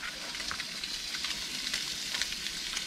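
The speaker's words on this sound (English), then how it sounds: "grab these fillets, which I buttered and hit with blackened seasoning. Drop them down in the pan." Buttered redfish (puppy drum) fillets coated in blackened seasoning sizzle in a hot cast iron pan with no added oil, a steady close crackling hiss with small pops throughout, no voices.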